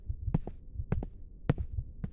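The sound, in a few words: heartbeat sound effect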